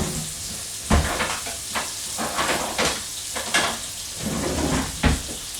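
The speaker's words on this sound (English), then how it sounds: "We want to try and sweat the onions off." Chopped onions sweat gently in a pan for butter chicken, making a soft crackling sizzle. Louder clunks and scrapes from a spoon break through it several times.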